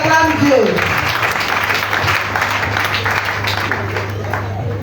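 A church congregation applauds steadily and loudly throughout, a dense wash of clapping with a low hum underneath and voices mixed in.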